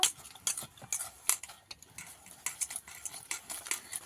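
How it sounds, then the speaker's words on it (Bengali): A spoon clinks and scrapes steadily against a bowl while rice-flour chitoi pitha batter with salt and baking powder is mixed, with irregular close taps and stirring. "সবগুলো উপকরণ একসঙ্গে মাখিয়ে নেব।"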